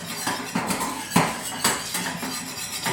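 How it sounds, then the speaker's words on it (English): A whisk beats a mixture in a bowl at a grill cookout, making quick rhythmic metallic clicks and scrapes against the bowl, close up and fairly steady. "Keep whisking."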